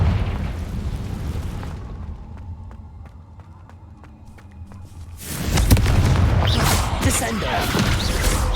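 A fire-blast explosion spell cast in the Hogwarts Legacy video game on PC, heard as a loud broadband burst around the middle, with combat noise before it and a quieter ringing tonal pulse in the gap.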